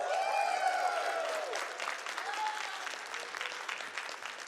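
Audience applause at AGDQ 2019, a speedrunning charity marathon, with a crowd clapping steadily throughout; a brief whistle or cheer rises at the start before the clapping settles and thins a little toward the end.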